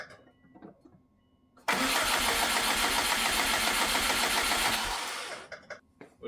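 A Subaru engine cranks over for several seconds in a steady, loud, churning burst that stops abruptly without catching, with quiet shuffling before and after.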